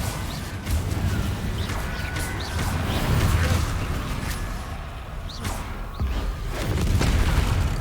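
Explosive Confringo spell blasts in Hogwarts Legacy go off in a great room, several booming impacts and whooshes scattered over a rumbling game soundscape, moderately loud.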